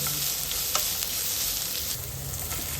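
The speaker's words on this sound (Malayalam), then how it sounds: "ഇനി നല്ലപോലെ ഒന്ന് ഇളക്കി കൊടുക്കണം." Chopped onions with ginger and garlic stir-frying in a pan, giving a continuous close hiss and sizzle with faint scraping from stirring and no voices.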